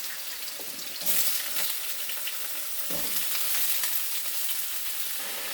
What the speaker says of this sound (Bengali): এবার আমি এই সবজিগুলো ওতে ভাজবো।